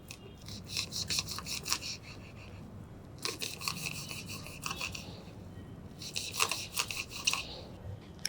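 Bermuda grass is cut into small pieces for a juice. Close, rhythmic crisp snipping or rasping strokes come in three bursts, with quiet pauses between them and no talking.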